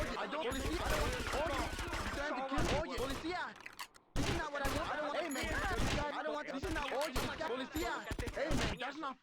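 Rapid bursts of gunfire in a Grand Theft Auto Vice City firefight against a sniper, cracking repeatedly through the clip under overlapping game voices and chatter.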